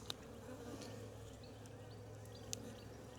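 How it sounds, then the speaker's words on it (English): Honey bees buzz steadily around an open hive frame of hatching brood during a colony split, a calm, continuous low hum close by with a couple of faint clicks. "Thankfully, the bees are super calm today."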